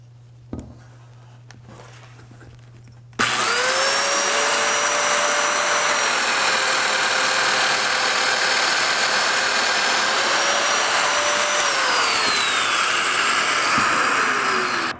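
A domino joiner cuts a mortise in wood for a garden gate, starting abruptly after a few quiet seconds with a few faint knocks, then whining steadily and loudly for about twelve seconds.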